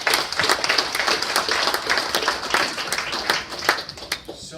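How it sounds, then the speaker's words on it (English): Banquet audience clapping for the co-presidents of a university volleyball supporters' group, dense, steady applause filling the room at close range for several seconds, with scattered sharper claps standing out and tapering slightly at the end. "How about a round of applause for them?"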